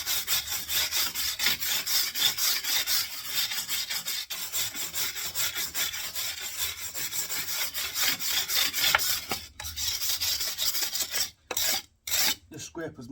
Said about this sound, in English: Just scrape as much off as you can